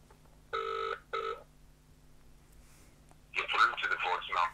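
A cheap U8 smartwatch rings through an outgoing phone call, two short electronic ring bursts close together, then a voice answers over a steady low hum.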